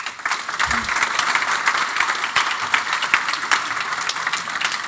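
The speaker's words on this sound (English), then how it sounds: "give them another big round of applause" A conference audience at an Angular developer event applauds, a loud, continuous patter of many hands clapping for several seconds, with a brief low voice or thump near the start.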